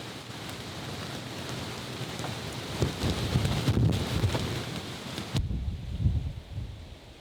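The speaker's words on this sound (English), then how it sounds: "the wind is getting really bad" Steady roaring wind at night buffets the microphone with rustling gusts and pattering like rain on fabric, loud and continuous, at a sandy campsite with a tent nearly collapsing.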